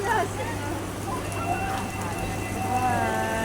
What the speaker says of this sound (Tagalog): Ang lakas ng ulan. Oh, heavy rain.